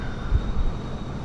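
An F-15 jet cruising fast in Flight Simulator 2020, a steady engine roar and rumble with a low thump near the start, continuous and moderately loud, no voices.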